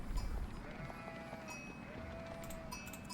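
Sheep in the strategy game Age of Empires IV bleat faintly among low ambient rumble and a few soft clip-clop footsteps.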